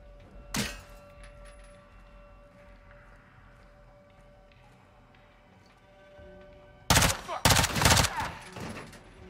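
Gunfire in the Call of Duty MW2 campaign: a single sharp shot, then a quiet stretch of ambient hum, then a loud rapid burst of several close shots.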